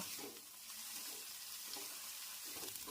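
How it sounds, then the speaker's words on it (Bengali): Chopped tomato and green chilli stirred in a pan: a faint, steady frying hiss with soft, intermittent scraping from the stirring. "এবার আমি এগুলোকে আবার একটু নেড়ে চেড়ে নেব"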